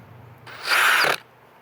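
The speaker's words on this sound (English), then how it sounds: "I'm going to put a new battery on the drill and give it a go." A DeWalt cordless drill fitted with a self-feed bit spins up in a loud, brief whirring burst of under a second, then cuts off into quiet.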